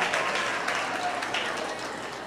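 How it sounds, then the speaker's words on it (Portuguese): Audience in a university lecture hall claps for a group of students, a dense, even patter of many hands held at a steady level throughout. "palmas para essa galera bem animada"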